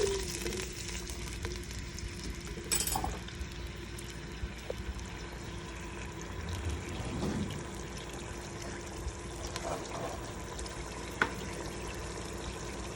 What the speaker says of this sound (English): I have taken already boiling water, so it should sizzle in no time.